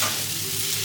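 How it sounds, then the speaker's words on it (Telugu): Banana flower usili mixture stirred in a pan, Godavari style, giving a steady close hiss and soft scraping with no clear breaks, alone without voices. "ఇలా బాగా కలపెట్టుకోవాలి"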